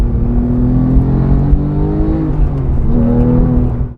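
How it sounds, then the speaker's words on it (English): A manual Porsche 991.2 911 GT3 engine roars loud and close, its pitch dipping and then climbing sharply as a rev-matched downshift blips the throttle, before cutting off abruptly. "turn it on again, rev match, perfect downshift."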